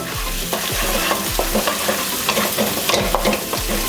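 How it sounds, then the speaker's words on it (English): An egg is scrambled in a hot pan for pad see ew: a spatula scrapes and taps in a regular rhythm over a constant, close frying sizzle. "I'm gonna break the yolk, spread it out a little bit, and we want it to set before we start scrambling it"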